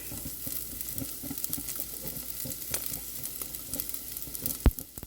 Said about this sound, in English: And I'm just gonna saute that real quick.